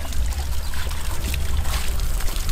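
Water from a deep well pump pours steadily into a tank, a loud, continuous rushing splash close by with a heavy low rumble, unbroken throughout.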